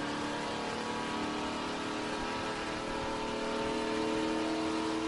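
A car engine holds steady at around 5,000 RPM, a loud, continuous, even drone with a slight swell toward the end and no voices.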